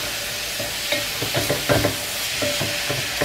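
Cauliflower rice stirred and frying in coconut oil in a pan, a steady sizzle with repeated scraping stir strokes, close and moderately loud.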